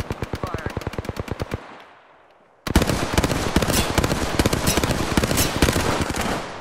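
Rapid automatic weapon fire in the video game Apex Legends, a loud close burst of evenly spaced shots, a short gap, then a denser sustained barrage.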